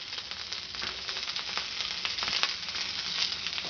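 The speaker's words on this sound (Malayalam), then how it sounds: "ഒരു വെളിച്ചെണ്ണ ഒഴിക്കാം." Grated coconut hits hot coconut oil in a pan with a steady, close, dense sizzle and crackle that runs throughout, with no voices.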